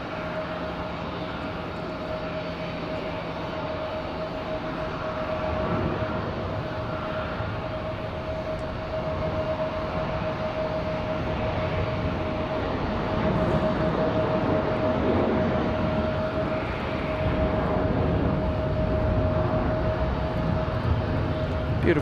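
A Boeing 737-900 departs Raleigh-Durham International Airport at night, a distant jet engine roar with a steady whine that slowly swells in loudness over about twenty seconds, with no one speaking.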